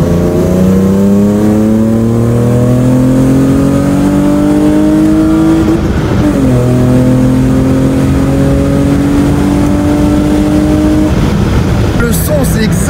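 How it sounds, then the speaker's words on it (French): Loud, close revving of a BMW E30 six-cylinder fitted with a Supersprint exhaust, two long rising pulls with a brief lift between them, the tone smooth and raspy, with a voice briefly heard near the end. "Pour moi, il n'y a pas plus beau bruit sur un 6 cylindres comme ça."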